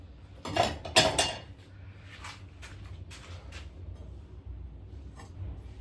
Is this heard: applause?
no